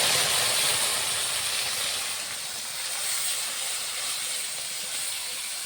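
Ginger, dry chili and tomato paste hitting hot oil for fried rice, a steady, fairly soft hiss and sizzle that runs unbroken for several seconds with no talking.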